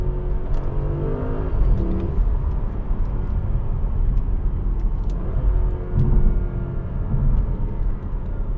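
A 2015 Audi S7 Sportback's engine and transmission pulling steadily while driving, a continuous, fairly loud engine drone heard from inside the car that rises slightly in places, with no talking.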